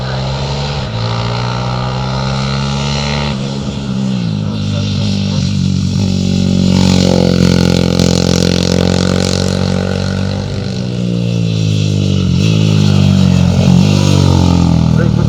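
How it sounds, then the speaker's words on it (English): A Ducati 350 four-stroke single motorcycle climbing a hill course at the Barbon hillclimb, its engine note loud and droning, pitch rising and falling through gear changes as it passes, with a commentator talking over it. "we're back to the four-stroke singles once again, and this is Doug Parnell's very nice Ducati 350"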